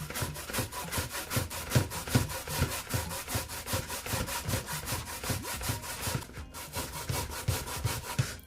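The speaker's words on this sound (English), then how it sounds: "use this part of the grater, all right, and you're gonna put your hands to work. You're gonna grater all of them." Cassava being grated by hand on a metal grater for Jamaican bammy: fast, rhythmic rasping strokes, about three per second, close and steady, with a brief pause near the end.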